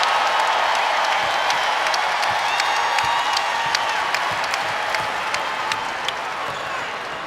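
A basketball arena crowd gives Aaliyah Boston a sustained ovation during a South Carolina vs Ole Miss game, dense steady applause with scattered cheers and whoops and a commentator talking over it.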